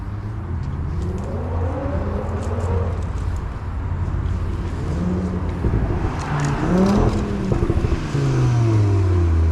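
Car engines, including an Audi and a Mercedes, rumble and rise in pitch as vehicles drive past nearby on a street in Antwerp, Belgium, one after another, with revving swells toward the end.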